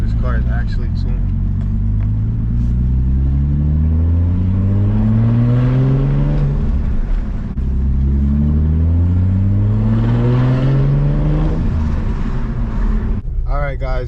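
A turbocharged BMW E30 engine revs loudly while driving, its pitch rising in two long sweeps as it accelerates through the gears, with wind buffeting the microphone and a voice briefly heard.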